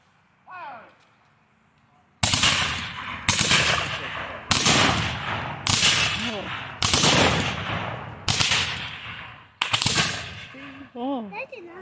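Civil War reenactment muskets fired by file down the line, seven loud sharp reports spaced roughly a second apart in a rippling sequence outdoors, with brief shouted commands before and between the shots.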